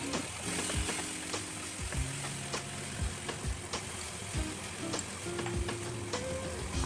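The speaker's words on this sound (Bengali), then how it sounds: "ওই মাছ ভাজা তেলের মধ্যে দিয়ে দিলাম কালো জিরে ও কাঁচা লঙ্কা" Black cumin seeds and green chilies sizzle in mustard-oil left from frying pabda fish, a dense steady crackle with sharp periodic clicks of a spoon stirring the pan, close and continuous with no talk.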